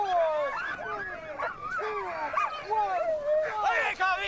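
A pack of sled dogs at a sprint race barks and yips excitedly in overlapping, high-pitched bursts, with whining cries mixed in, close and continuous throughout.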